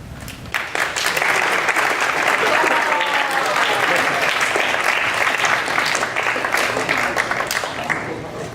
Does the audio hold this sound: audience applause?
yes